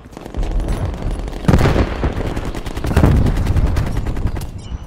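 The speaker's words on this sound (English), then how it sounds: "Net call, incoming artillery." Incoming artillery and gunfire in the online shooter Dirty Bomb, loud dense volleys of rapid shots and heavy booming impacts rolling continuously over five seconds.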